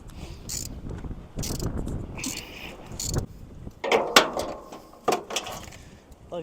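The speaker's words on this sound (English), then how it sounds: "We're going to run a tap down in the top of those carb stud holes." A thread tap is worked into the carburetor stud holes on the engine of a 1980 Pontiac Firebird that sat for 17 years, giving irregular metallic clicks and scrapes close by over a low workshop rumble.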